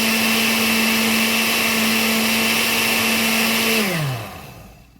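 A blender whizzes chocoflan batter in one loud, steady high-pitched whir that holds for several seconds, then winds down as the motor is switched off.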